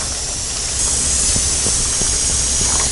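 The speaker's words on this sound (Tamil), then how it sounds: "இப்போ நம்ம அரிசி போட்டுக்கலாம்." Rice being added to a pot of boiling water while cooking a Pongal festival feast: a loud, steady hiss of steam and bubbling throughout, with a few brief soft bursts partway through.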